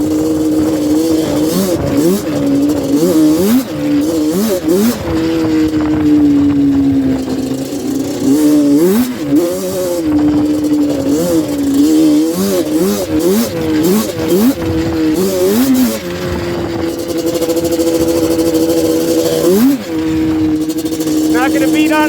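A Yamaha Banshee ATV's two-stroke engine revs hard and repeatedly in snow, its pitch climbing and falling in rapid bursts with wheelspin. The loud, close engine runs almost continuously, and people talk over it.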